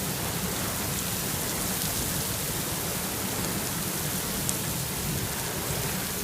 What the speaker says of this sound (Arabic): الأمطار مستمرة ولله الحمد.